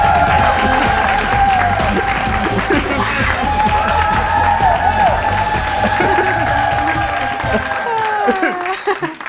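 Studio audience of a TV talk show breaking into sustained, loud applause and cheering, with whoops and voices mixed in and a short fade near the end.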